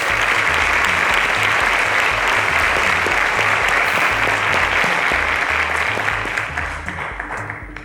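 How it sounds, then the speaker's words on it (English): An audience applauds the first runner-up on a teachers' edition quiz show, a dense, loud, sustained wash of clapping that holds steady and then starts to thin toward the end. "Ladies and gentlemen, a round of applause to David Olugana."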